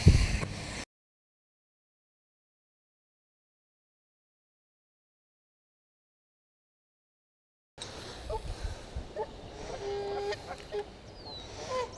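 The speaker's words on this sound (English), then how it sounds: "Aw, that poor goose over there is injured." A goose honks near a fishing spot by the water; after a long stretch of silence, several short nasal honks come through amid outdoor ambience, moderately loud.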